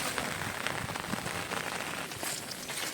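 Steady rain falls on surfaces outdoors during the monsoon, a dense, even patter that holds at a constant level throughout with no talking.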